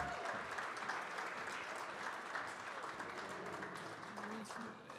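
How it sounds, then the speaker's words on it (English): Applause at an Oklahoma awards show, a broad sustained wash of audience clapping heard at moderate distance, with faint voices beneath it. "One more round of applause."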